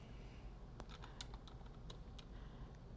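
Faint, scattered keystrokes tap on a computer keyboard over a low background hum, a few quick clicks spaced irregularly.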